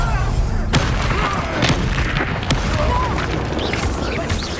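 Confringo blasting spell going off in Hogwarts Legacy, loud booming explosive bursts with sharp cracks around one and two and a half seconds over dense continuous battle noise, a voice talking underneath.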